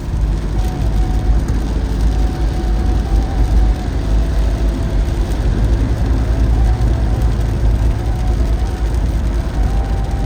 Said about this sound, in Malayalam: ഇത് അത്യാവശ്യം കുഴപ്പമില്ലാതെ മഴ പെയ്യുന്നുണ്ട് കേട്ടോ